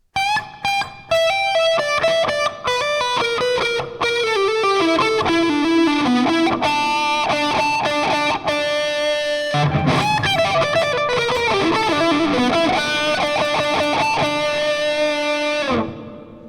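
A distorted electric guitar plays a slow descending run of sustained notes from a guitar solo, repeated twice, loud and up close without any talk.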